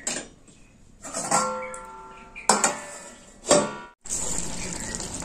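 A lid set onto a cooking pot of potato and pointed gourd curry, with a few sharp metallic clanks and rattles close by over a steady background hiss.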